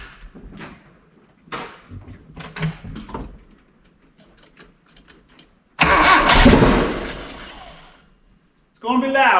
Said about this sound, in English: So it cranks. Let's see if we can get it to fire.